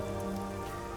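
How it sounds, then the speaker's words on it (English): Steady rain pours in the Kamisaki district of the video game Master Detective Archives: Rain Code, a dense continuous patter with a low background hum and no voices. "I'm starting to feel like the rain isn't so bad."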